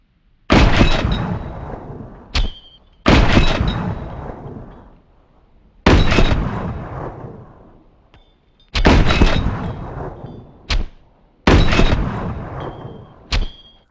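Gunfire in the video game Ring of Elysium: loud single shots and short bursts that repeat several times, each blast trailing off into a long echoing decay, with sharp clicks between them.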